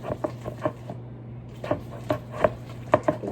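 Butter being beaten by hand in a bowl with a spoon, no mixer, giving a series of light clicking taps against the bowl's side at an uneven rhythm, close and fairly quiet over a low steady hum.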